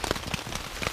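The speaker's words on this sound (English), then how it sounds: "It's still raining quite heavy now." Heavy rain drums on a winter camping tent in a birch wood, a dense, close patter of many drops striking taut fabric without pause.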